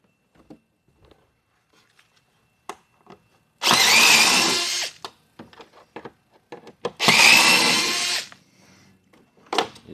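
Power drill backing screws out of the trunk covers on a 2021 Honda Goldwing, two short bursts of whirring close by, separated by light handling clicks and taps in a quiet workspace.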